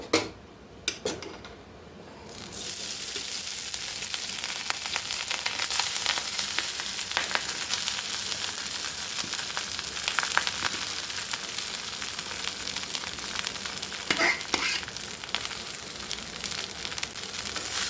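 Cubes of paneer fry in hot oil in a pan, giving a steady, close sizzle that runs on for many seconds after a few sharp knocks at the start.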